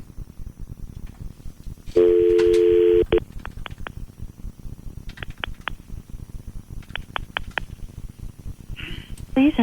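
A telephone number is dialed on a call-in radio show: a burst of dial tones, then a quick series of short separate beeps spread over several seconds, with background noise and a final pair of tones.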